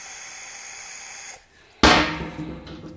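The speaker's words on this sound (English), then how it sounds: "spray the primer in the cup like so" A sudden burst of aerosol primer sprayed from a can into a cup hisses loudly after a short pause, then tapers off over about a second.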